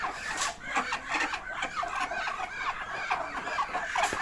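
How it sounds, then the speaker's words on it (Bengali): A flock of ducks calling over and over, their harsh, overlapping quacks forming a steady, busy chorus at moderate distance. "সিনিয়র হাঁসগুলো দেখুন কিরকম ডাকাডাকি করতেছে"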